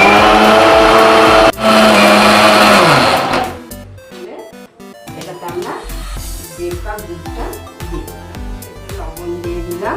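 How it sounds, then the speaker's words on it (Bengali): Ripe mango pulped in a blender for mango pudding: a loud whirring motor runs for a few seconds, then cuts out, leaving clatter and a voice talking in the kitchen. "এবার আমরা আমটাকে পিষে নেব।"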